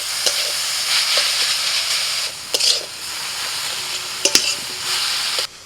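Minced chicken for soup is stirred in a pot with a steady sizzling hiss, punctuated by several sharp scraping clinks of a utensil against the pot, close and fairly loud.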